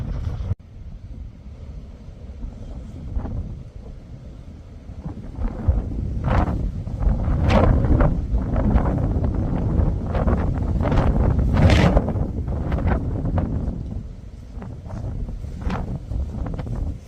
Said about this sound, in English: An extremely blustery Beeley Moor.